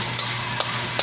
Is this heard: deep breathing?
no